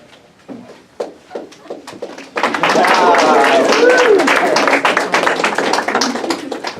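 An audience claps and snaps, beginning with scattered taps before breaking into dense, loud, sustained clapping that holds to the end.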